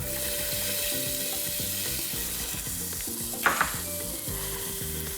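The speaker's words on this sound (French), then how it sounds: "j'ajoute déjà mes oignons" Onions sizzle steadily as they go into hot coconut fat in a pan for broccoli and kohlrabi soup, a close, continuous frying hiss with a brief louder crackle burst partway through.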